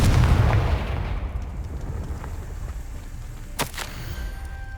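A Confringo spell explosion from the video game Hogwarts Legacy sets off a loud, booming blast that fades into a rumbling tail. A couple of sharp crackles follow later.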